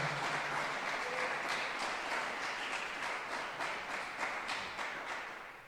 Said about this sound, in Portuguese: Aplauda Ele nesse lugar.